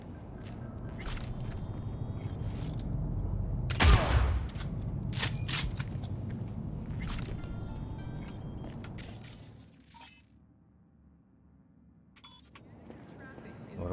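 Gunfire from the video game Cyberpunk, a burst of sharp, loud shots around the middle with scattered impacts, mixed under continuous game sound and someone talking over it.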